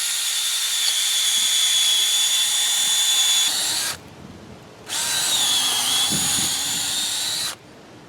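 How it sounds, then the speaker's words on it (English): A power drill boring a hole into a 4x4 wooden post in a garden, two loud sustained whining runs of several seconds each, separated by a short pause, with no voices. "Now I just want to drill a hole in that 4x4 and put a big bolt in it"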